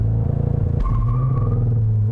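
2022 Cadillac CT4-V Blackwing, a rear-drive manual sport sedan, launching hard: a close, deep rumbling engine that pulses then climbs in pitch as it accelerates, alone without talk.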